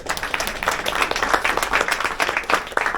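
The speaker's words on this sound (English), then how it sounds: "So big round of applause" Audience applause following a robotics demonstration, steady dense clapping from a moderate-sized crowd lasting throughout, fairly close and even.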